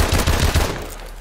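Rapid machine gun fire during a one-on-one video game duel, a quick rattling burst of several close, punchy shots that fades out within about a second.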